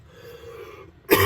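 A man's low, rumbling throat clearing followed by one sharp, loud cough up close.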